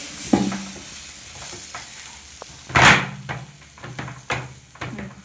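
Water sprinkled onto besan roasting in a pan gives a brief sharp sizzle burst amid scattered stirring scrapes and clinks from a spoon, all close and fairly quiet.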